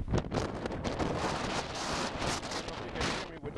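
Strong wind buffets the microphone on a hike through a canyon of volcanic rock, a constant close roar with gusty swells throughout.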